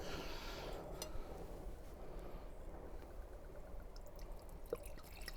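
Red wine, a 2015 Geantet Pansiot Charmes Chambertin Grand Cru, poured through an ordinary tea strainer to catch bits of cork, giving a steady close trickle and soft drips with no talk.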